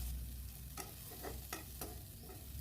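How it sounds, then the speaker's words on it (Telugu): Spices frying in a pan make a low, constant sizzle, broken by a few brief scraping stirs of a spoon, alone and fairly quiet. "ఈ అన్నిటినీ ఫ్రై చేసుకొని చల్లార్చుకోవాలి"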